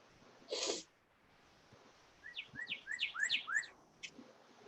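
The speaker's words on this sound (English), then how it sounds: "Can hear a cardinal." A northern cardinal sings outdoors: a quick run of about seven bright, downward-slurred whistles at moderate distance, following a brief loud burst of noise, with no talking.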